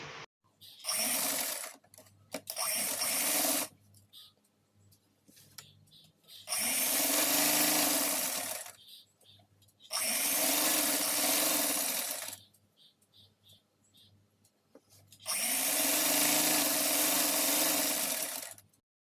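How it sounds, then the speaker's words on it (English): A sewing machine stitches fabric panels along fitting and shoulder lines for an A-line dress, running in three long steady whirring bursts with short stops and handling noises between them. "So let's start stitching."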